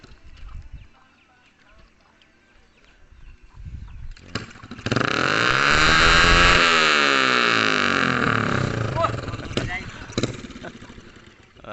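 A motorcycle engine revs up loud and close, its rising and falling drone sweeping across several seconds after quieter moments of people talking nearby.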